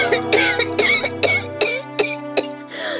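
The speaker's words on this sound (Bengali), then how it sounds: "কাশিটা আবার বেড়েছে?" A cartoon mother with a worsening cough and chest pain coughs repeatedly. About seven harsh, voiced bursts come in quick succession, loud and close, with no other talk.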